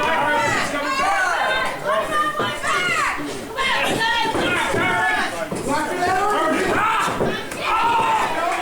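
A crowd at a live MMA fight event roars continuously with loud, overlapping shouts and chatter. Excited cries rise above the steady wall of noise.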